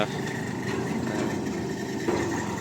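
A steady engine drones and idles throughout, with a slight shift in tone near the end and no talking.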